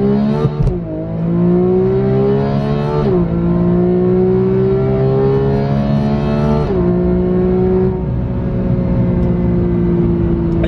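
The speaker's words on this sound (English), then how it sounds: "I'm gonna do a little launch from here." A Porsche GT3 launches hard from a standstill, its engine revving loud and close through rising pitch sweeps with two quick gear changes, the engine note dipping briefly at each shift before climbing again.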